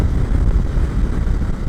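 A 2025 BMW F900GS Adventure's parallel-twin engine drones steadily while riding, a loud low rumble blended with heavy wind buffeting on the microphone, continuous and unbroken with no voices.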